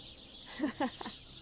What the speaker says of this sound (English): These sparrows.